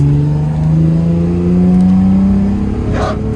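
A car on adjustable coilovers with new wheels, one wheel not fully tightened, drives with a steady engine drone and revving, then a short scraping thud near the end as it bottoms out and the tire rubs.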